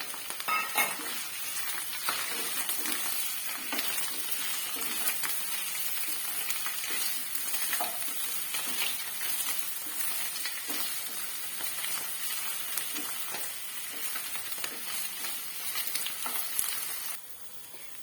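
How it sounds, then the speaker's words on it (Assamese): Mushrooms frying in oil in a kadai for an Assamese mushroom almond curry, a steady dense sizzle and crackle that runs close and loud almost the whole way through, with occasional stirring scrapes and no voices. "মই এতিয়া প্ৰথমতে মাছৰুমখিনি অলপমান ফ্ৰাই কৰি ল'ম।"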